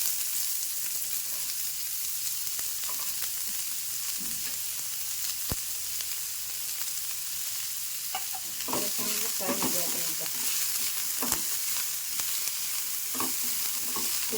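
Onion and green chili fry in hot oil with garlic in a pan, giving a steady close sizzle. Scraping and clattering stirring sounds grow busier in the second half.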